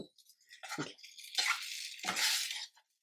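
Telangana-style gongura egg curry bubbles in a pan, giving a few irregular, close, soft bursts of plopping and spluttering with brief quiet gaps between them.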